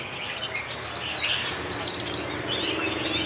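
Caged songbirds at a bird market in Van Phuc antiques market, Ha Dong, chirp and twitter in quick overlapping bursts of high calls over a steady background hum, several birds singing at once.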